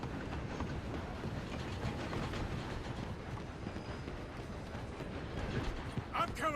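Train rolling along in Red Dead Redemption 2, a steady, loud rumble and rattle of rail cars continuing throughout with a few sharper clanks near the end.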